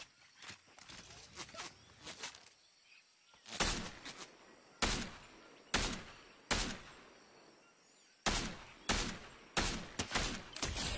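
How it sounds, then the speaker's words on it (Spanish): Video game gunfire rings out in sharp, loud shots, scattered bursts at first and then a steady run of single reports about a second apart, with a quieter stretch of small noises in between. "mil disparos y apenas si le atiné algo"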